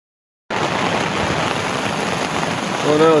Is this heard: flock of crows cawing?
no